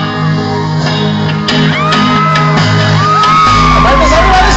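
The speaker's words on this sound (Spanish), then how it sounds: "quiero el grito más fuerte, más fuerte." A concert crowd at a live show shouts and whoops loudly over the band's amplified music, the cheering swelling toward the end.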